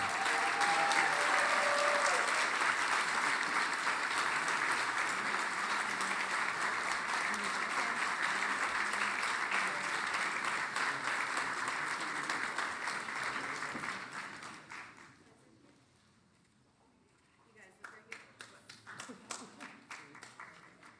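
An audience at a tribute ceremony applauds award recipients with loud, dense clapping that holds for about fifteen seconds, then fades to near silence before a few scattered claps and movement return.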